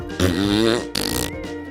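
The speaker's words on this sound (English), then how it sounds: "he let off a few more farts" Fart sound effect in a children's story, two loud, close, brassy blasts in quick succession, the second rougher and sputtering.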